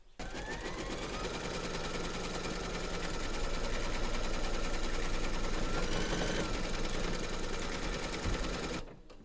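An embroidery machine satin-stitches a surfboard design in green thread, running at a fast, steady mechanical rhythm with continuous needle chatter up close for about nine seconds before stopping abruptly.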